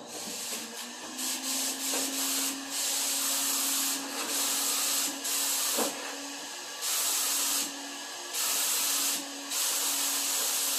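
A paint sprayer coats MDF doors in a series of loud, close hissing bursts of varying length, each spray pass starting and stopping abruptly over a steady background hum.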